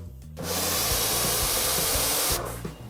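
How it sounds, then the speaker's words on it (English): An MJJC short trigger gun on a pressure washer fires a steady loud hiss of water spray for about two seconds, starting and stopping sharply, close by over a low pump rumble, with no talking. "So if you pull the trigger, the water comes out like this."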